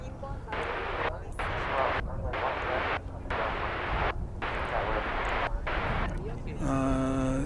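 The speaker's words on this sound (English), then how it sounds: "We have a Delta A220 coming in." A Delta Airbus A220 airliner landing at DFW Airport, heard as a loud broad jet roar that swells and surges in repeated bursts, with a voice talking over it.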